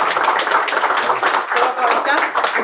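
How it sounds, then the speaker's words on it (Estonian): A room full of people applauds the speaker Ain-Alar Johanson, with steady close clapping throughout and voices mixed in. "teeme kõigepealt aplausi Ain-Alar Johansonile"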